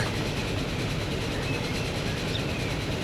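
Steady, fairly loud rolling rumble of a train running along the track in Transport Fever 2, with a faint clickety-clack texture and no pause throughout.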